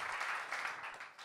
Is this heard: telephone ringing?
no